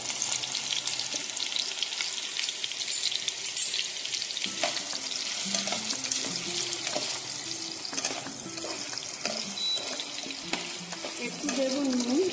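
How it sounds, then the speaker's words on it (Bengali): Potatoes fry in hot oil while jackfruit do piyaja is being made, giving a steady sizzle close by with occasional stirring and clinks from the pan. "তেল গরম হয়ে গেছে, তো তেলের মধ্যে আমি আলুগুলো দিয়ে দেবো।"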